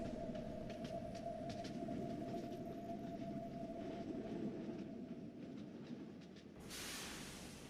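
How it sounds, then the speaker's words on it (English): A train travels over an old stretch of railroad track at Gurdon, giving a faint, continuous rolling rumble with a thin steady whine, ending in a rush of hiss. "trains travel over the stretch of old railroad track"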